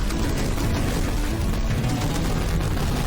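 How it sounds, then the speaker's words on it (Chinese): A shell explosion in the Sega Mega Drive game Metal Dragon, a dense, continuous roar of blast noise filling the whole moment at steady loudness, with no speech. "迎头呢就给了我1发炮弹，哦，它爆炸的残骸还有伤害。"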